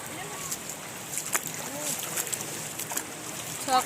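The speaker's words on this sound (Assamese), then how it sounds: "ইমান ধুনীয়া একদম পানী চিলচিলীয়াকৈ বৈ আছে" Water flowing steadily along a river, a soft continuous wash mixed with light wind buffeting.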